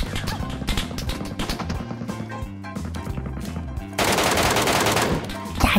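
Rapid automatic gunfire from a battle royale video game, a dense run of close, loud bursts and shots with a sharp, heavier volley near the end, over game background sound.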